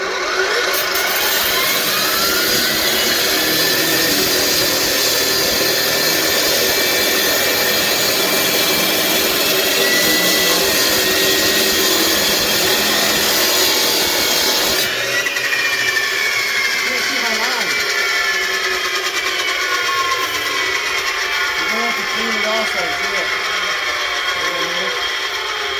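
Wet saw cutting patio pavers, a loud continuous high whine and grind from close by, steady throughout with a shift in pitch midway as the blade bites; voices talk over it.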